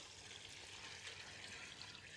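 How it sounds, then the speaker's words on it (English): Water pours steadily into a stock pot holding beef stock ingredients such as thyme and herb stalks, a continuous close splashing rush with no talk over it. "we're adding our water"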